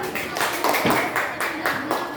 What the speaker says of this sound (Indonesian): terima kasih kelompok 5 beri tepuk tangan.